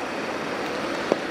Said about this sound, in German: Oh, jetzt fängt es gerade ein bisschen stärker an zu regnen